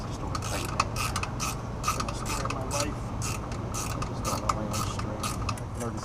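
Rapid ratcheting clicks from a socket wrench tightening bolts on a Yamaha YD100 motorcycle engine, a steady run of close mechanical clicking against a constant low hum, with no talk.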